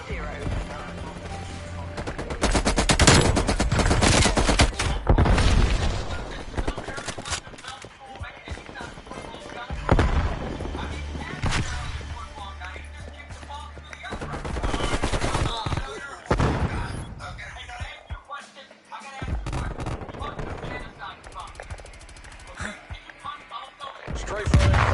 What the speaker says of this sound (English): Strafe incoming on your location